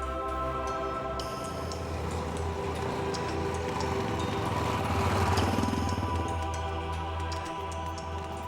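A motorcycle rides out through East Africa, its engine a steady, close drone of low rumble and whine that swells slightly midway and holds constant throughout.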